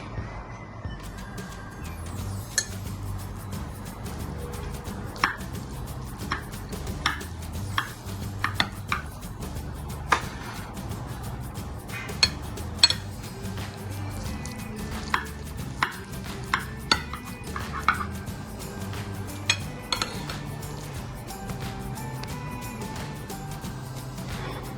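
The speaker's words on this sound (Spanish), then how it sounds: "Vamos a cortar." A knife cuts into a baked potato tortilla pie with cheese on a plate, producing a series of sharp scraping taps and clinks of blade on plate, irregular and fairly close over a quiet background.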